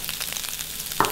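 A vegetable filling stir-frying in a pan while cooked down until dry, a close, steady sizzle with quick scraping stirs.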